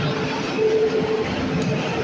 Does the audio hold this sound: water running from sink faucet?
no